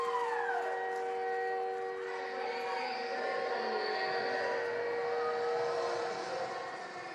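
A USPHL ice hockey arena goal siren blares in long, steady tones over a loud, roaring crowd, holding for several seconds.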